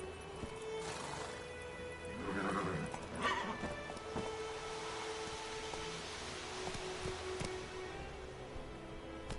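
The horse Roach in The Witcher 3 video game whinnies sharply and gallops with steady clip-clop hoofbeats under low game ambience.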